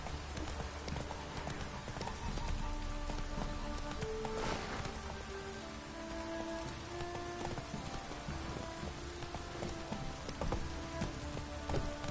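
Steady rain falls in The Witcher 3, a continuous hiss of drops on the ground blended with rhythmic horse hoofbeats clip-clopping close by as the horse travels through the downpour.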